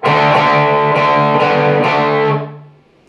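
A distorted electric guitar plays a lick, four gritty, ringing double-stop hits in a loose rhythm, then a fading sustain, played alone.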